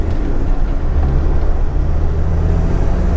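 A Land Rover Defender with a Td5 diesel engine accelerates at about 30% throttle on a hilly road. A steady, loud low rumble with droning harmonics fills the cabin throughout, without speech.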